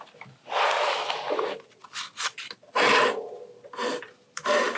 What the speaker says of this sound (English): Let me get my little trimmer out.